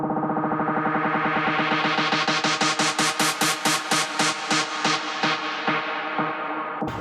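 Resampled lead synth in an electronic dance track played as a slow-down break: a dense repeating chordal stab pattern whose pulses stretch and spread over several seconds, bright and loud, alone.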